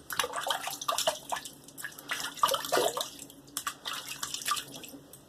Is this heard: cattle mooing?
no